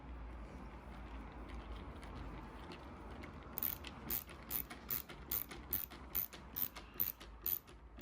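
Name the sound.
ratcheting screwdriver driving screws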